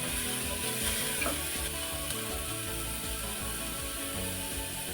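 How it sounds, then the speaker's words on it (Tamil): Onions sautéing in a pan while wheat samba rice khichdi is being cooked, giving a steady close sizzle and frying hiss with a repeating stirring scrape throughout and no voices. "வெங்காயம் இப்போ நல்லா வதங்கணும் லேசாக வதங்கின பிறகு நம்ம தக்காளி சேர்த்துக்கலாம்"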